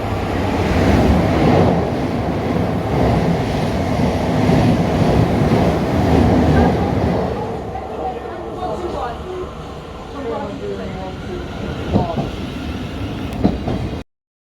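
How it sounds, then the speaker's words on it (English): A train approaches and passes through a railway station with a loud, steady rumble and heavy wind buffeting that ease off toward the end, leaving a few clanks and squeals, while people talk nearby. "The train now approaching."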